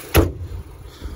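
A single sharp 2020 Ford Fusion car door slam thuds close by, followed by a short quiet tail of low rumble.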